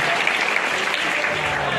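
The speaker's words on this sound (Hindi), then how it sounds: "इनको थैंक यू वाली क्लैपिंग होनी चाहिए" Audience applause at a live motivational meetup in Jaipur, a dense, loud, continuous wash of clapping from a crowd heard close up, with no talking.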